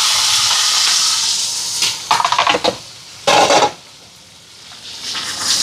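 Dried red chillies, green chillies, curry leaves and garlic fry in hot oil with a steady loud hiss and sizzle, broken by a few sharp bursts of stirring and clattering against the pan.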